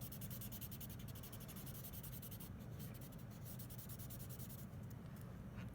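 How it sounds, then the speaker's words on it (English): A kneaded eraser rubs back and forth across drawing paper during gradient shading, a faint, steady scratchy friction heard alone and close. "I'm just going to work with that kneaded eraser."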